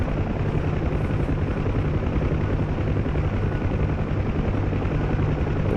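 UH-1 Huey helicopter rotor in DCS World, played in VR: a steady, loud, continuous rotor thrum and engine whine filling the whole stretch without pause, alone with no voices.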